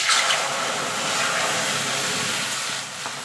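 Water poured onto hot fried moong dal in a pan gives a loud, steady steam hiss that runs for about three seconds with no talking, easing slightly near the end.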